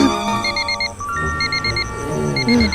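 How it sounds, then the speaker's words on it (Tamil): An electronic alarm clock beeps in repeated bursts of rapid tones, fairly loud and close, with a low background hum underneath. "அலாரம் அடிக்கும் பாரு."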